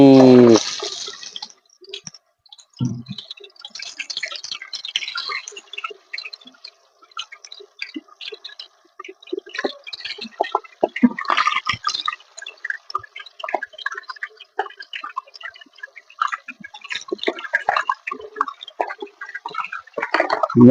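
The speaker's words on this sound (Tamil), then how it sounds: "மீனை எடுத்து உள்ள போட்டுக்கலாம். எண்ணெய் நல்லா காஞ்சிருச்சு." Fish frying in hot oil crackles and pops in sparse, irregular bursts, quiet between spatters, with a brief voice at the very start.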